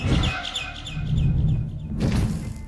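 Bird chirps in the horror game Garten of Banban 6, a string of short bright tweets repeating quickly over a low rumbling ambience, then a brief thud-like burst near the end.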